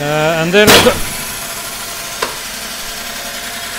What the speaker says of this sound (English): that is the sound of a breaking bandsaw blade